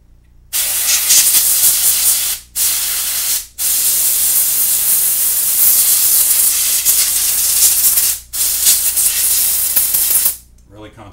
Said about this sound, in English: let's go ahead and hit it with the spray can first, okay?